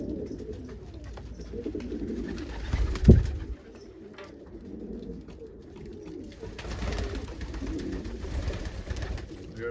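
Pigeons in a loft housing Almond and Andalusian breeds coo softly in low, throaty bursts, with one louder thump or flutter nearby and a quiet, steady background throughout.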